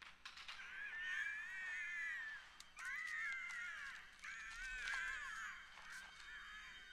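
A messenger bird in an animated series gives harsh, crow-like cawing calls, three long rasping cries in a row with short gaps between them, loud and close, with no talk over them.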